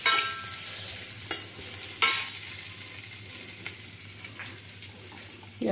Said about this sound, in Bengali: আলুগুলো তো সেদ্ধ করাই আছে, একটু ভাজা ভাজা হোক